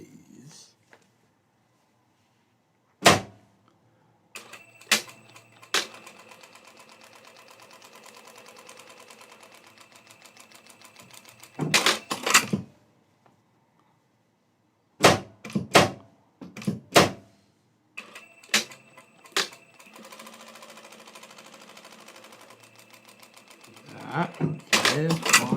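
A serger sewing machine stitches short fabric scraps for a shirt, running in several brief bursts separated by pauses and loud clunks, with quieter mechanical handling between runs.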